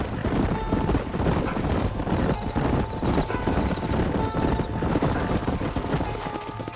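Horse hooves clip-clop in a fast, continuous gallop in a Western video game, several horses riding together with dense, even hoofbeats and a faint outdoor rumble throughout.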